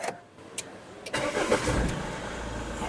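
A Mahindra XUV500 automatic SUV started by push button: a few soft clicks, then a brief starter crank and the diesel engine catching and settling into a steady, close idle.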